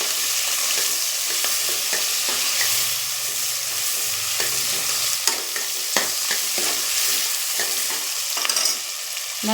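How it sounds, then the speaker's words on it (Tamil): Vadacurry masala sautés in a pan with a constant close sizzle, punctuated by light spoon scrapes and taps as it is stirred throughout. "நல்லா வதங்கட்டுங்க"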